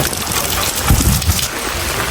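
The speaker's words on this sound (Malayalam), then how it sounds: "പക്ഷെ ഇവിടെ നല്ല മഴയാണ് ഗൈസ്." Heavy rain pours down steadily in Kerala, a dense, continuous wash of drops with a brief low rumble or splash swelling in the middle, close and fairly loud throughout.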